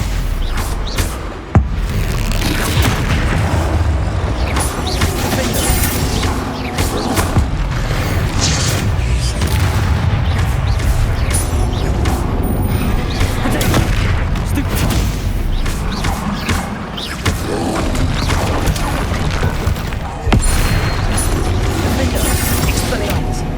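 Spell combat in the Hogwarts Legacy video game, with continuous booming explosions and clattering magical impacts that stay loud throughout, layered over a dense game mix with sharp bursts near the start and end.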